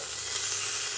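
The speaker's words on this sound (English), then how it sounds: "See, it's got all that nice little sizzling on there." Sausages sizzle steadily in an Instant Pot, a close, even hiss of frying that holds at a constant level without a break.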